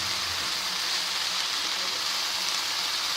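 Amaranth leaves frying with onions in a pan for Andhra-style thotakura fry, a steady close sizzle with a hissing, rain-like texture and no talk over it.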